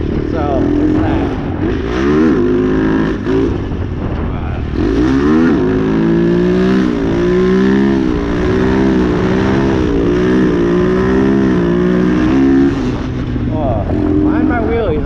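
Engine of a Boom Vader grom clone, a small carbureted motorcycle, revs up and down repeatedly through a steady loud drone, close to the microphone, with occasional speech over it.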